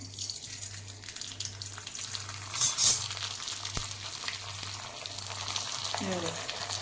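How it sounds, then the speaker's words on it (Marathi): Nachni papad frying in hot oil in a kadhai, a steady bubbling crackle with a louder burst of sizzle midway, close and continuous, with no talk. "कढईमध्ये तुम्हाला तळून दाखवते तेल तापलेलं आहे"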